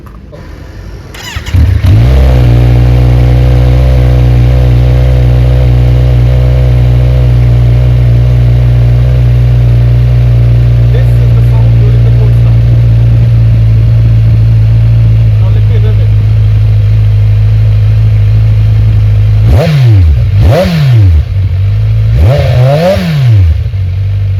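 A Kawasaki Z900 fitted with an Austin Racing slip-on exhaust fires up and settles into a loud, close, throbbing idle, then near the end is blipped through three sharp revs that rise and fall.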